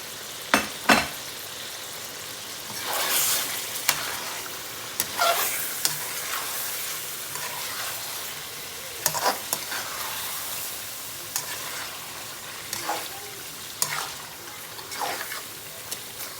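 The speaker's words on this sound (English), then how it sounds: "Fry these all really well." Biryani masala, anar dana and black seed frying in a pan, with intermittent stirring scrapes and a soft sizzle that comes and goes over about sixteen seconds.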